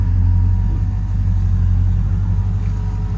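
A CrewCab Chevelle pulls away under power, its engine rumbling low and steady close by with a slight swell as it moves off, no voices.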